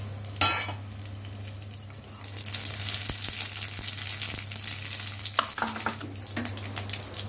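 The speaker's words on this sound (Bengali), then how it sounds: "শুকনো লঙ্কা ফোড়ন দিচ্ছি" Dry red chillies sizzle in hot oil for a dal tempering, a steady loud frying hiss after a sharp initial splash, with occasional stirring scrapes and utensil clinks close by.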